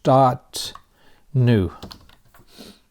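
Keystrokes on a computer keyboard while working in the Nano text editor on a Raspberry Pi, a few close clicks mixed with short bursts of talking.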